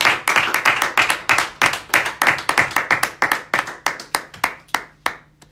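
Congregation at a Protestant church service applauding, with loud, close rhythmic clapping in steady unison beats that thin out near the end.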